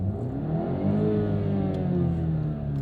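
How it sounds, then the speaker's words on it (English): Car engine held at a steady, rising rev for a couple of seconds, a smooth mid-pitched drone that climbs gently in pitch, fairly close and with no talking over it. "Let's give it a couple of revs."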